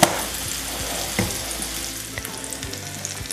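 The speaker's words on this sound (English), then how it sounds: "So our onions are done." Onions sizzle steadily in a pan over medium-low heat, a dense close crackle with occasional pops and faint scraping, no voices.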